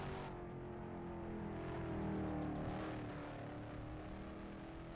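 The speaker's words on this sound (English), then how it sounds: "just some of the fastest cars just went through" Modified race cars at Mt Lawn speedway roar past during a qualifying run, a steady loud engine drone that swells briefly mid-way as cars sweep by, with no talk over it.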